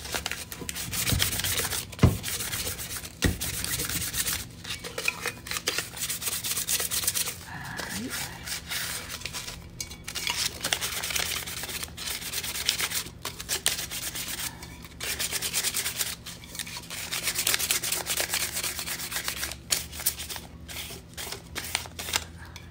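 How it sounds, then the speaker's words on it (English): Folded sandpaper is rubbed by hand across a cup's surface, producing a close, steady scratchy rasp in repeated strokes that continues throughout with small pauses. "fold the sandpaper up so I can hold it in my hand, lightly sand the entire surface"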